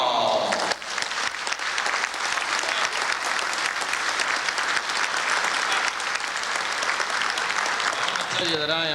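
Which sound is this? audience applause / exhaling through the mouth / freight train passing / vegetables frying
audience applause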